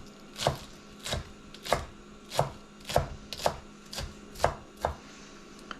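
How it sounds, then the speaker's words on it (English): A knife slices garnish on a bias against a cutting board, about ten crisp, evenly spaced chops at a relaxed rhythm, close and clear with no talk. "Slice that on a bias for texture and presentation"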